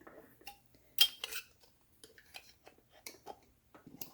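A small lid being screwed onto an overnight oats jar: sparse clicks, scrapes and light taps of the lid's threads, close and quiet, with a sharper knock near the first second.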